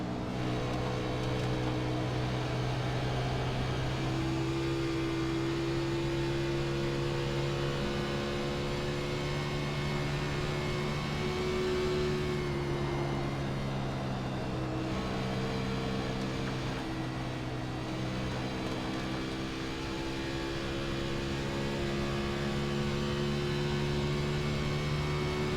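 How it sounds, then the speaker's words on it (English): Race car engine in a racing video game with the throttle feathered, a continuous droning hum whose pitch wavers and shifts slightly, steady and even throughout with no voices. "We can definitely hear Kevin is feathering that throttle a lot."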